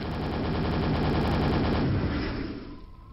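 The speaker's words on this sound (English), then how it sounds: "with Justin firing the final couple of nails as he dropped into the exit teleporter" Rapid repeating nailgun fire from Quake during a speedrun, a dense rattling burst that runs steadily for about two seconds, then fades out as a low hum takes over.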